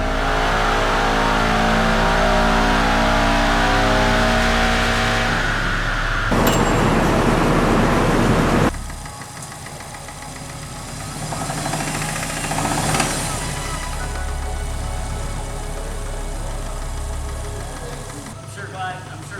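A Subaru STI engine revs hard through an acceleration pull, loud and close, the roar climbing in pitch before shifting and continuing under strain with wind and road rumble.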